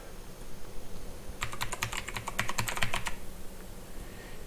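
Rapid keystrokes on a computer keyboard as a username is entered, a dense burst of crisp clicks lasting under two seconds in the middle, close and clear over faint room hiss.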